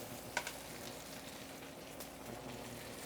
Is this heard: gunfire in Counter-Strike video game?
no